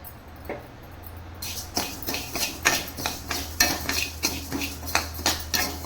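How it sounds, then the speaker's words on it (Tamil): Urad dal being roasted in a hot kadai, a steady run of metal spatula strokes scraping and clinking against the pan in a regular rhythm, close and moderately loud, with no talking. "வாங்க, அடுப்பில் கடாய் வச்சு சூடாகிடுச்சு. நம்ம உளுத்தம்பருப்பு வந்து வறுத்துக்கலாம்."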